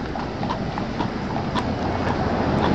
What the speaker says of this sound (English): so basically the horse is just walking down the hill